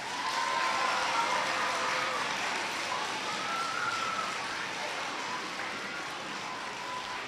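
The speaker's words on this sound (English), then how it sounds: "Let's take a minute and give all of them a round of applause." Audience applause at an awards ceremony, a steady soft wash of many hands clapping at a moderate distance, holding evenly for several seconds with faint voices mixed in.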